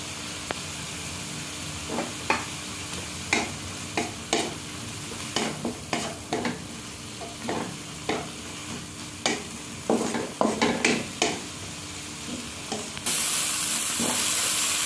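Mustard green stems stir-fried in a pan, a steady background sizzle broken by repeated sharp clinks and scrapes of a spatula against the metal, with a brighter hiss rising near the end; no talking.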